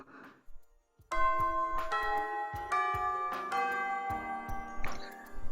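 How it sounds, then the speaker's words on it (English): A school class bell in the G-senjou no maou visual novel: a loud, ringing chime melody of several overlapping tones sounding for about four seconds after a short quiet lead-in. "The class bell began."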